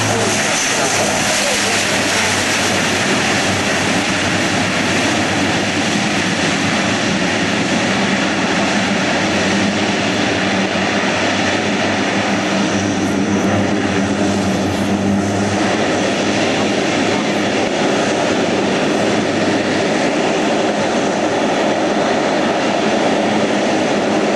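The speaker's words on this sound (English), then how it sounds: "There's so much thrust in reverse, he can taxi the airplane backwards, back into forward thrust." A C-130J-30 Hercules turboprop at an airshow roars loudly and continuously as it touches down and runs its propellers in reverse thrust, a dense broadband engine and propeller noise that swells and holds throughout.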